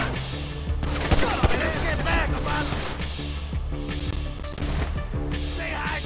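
Gunfire in GTA V: rapid bursts of shots crackle throughout a busy, loud mission scene, with a voice talking over the shooting.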